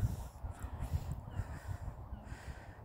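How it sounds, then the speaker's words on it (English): A seagull calls nearby during an afternoon walk, giving a run of harsh, rhythmic cawing cries that repeat over a low rumble of wind or handling noise. "It's a seagull there."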